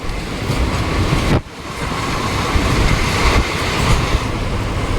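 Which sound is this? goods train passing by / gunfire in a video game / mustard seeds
goods train passing by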